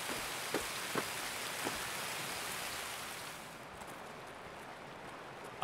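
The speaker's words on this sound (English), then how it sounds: "This rain, I can't even hear myself speak." Steady heavy rain pours down in the video game Escape from Tarkov in a dense, even hiss, with a few louder drips standing out early on, then thinning slightly.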